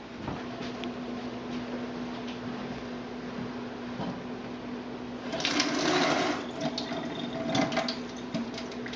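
Water rinsing seeds out of dried chiles, a soft background hum at first, then a louder splashing rush of running water in the second half with small clicks and taps.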